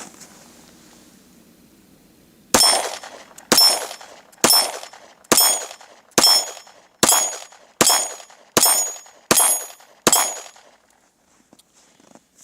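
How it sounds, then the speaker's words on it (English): Nine sharp Glock 26 9mm pistol shots ring out at a steady pace of about one per second, each a loud crack followed by a brief ringing decay, with no talking. "now let's go ahead and take some shots with the Glock 26"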